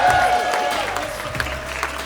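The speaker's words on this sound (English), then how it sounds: "Make some noise for your host," Applause and cheering from a stand-up comedy club crowd in Chicago, welcoming host Rachel Hall to the stage, loud and sustained with a few sharp whoops rising above the clapping.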